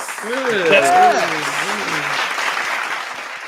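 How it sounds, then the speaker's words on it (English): Applause from a small group at a wrestling talk show, a steady wash of clapping lasting several seconds while a voice talks over it. "We got the clapping."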